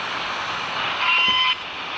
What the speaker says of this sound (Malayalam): ഒരു ട്രെയിൻ വരും ഗൈസ്